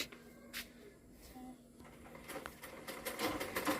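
A home sewing machine runs quietly, mending an opened seam on a cotton petticoat, its soft whirring stitches growing busier and louder toward the end amid faint room noise.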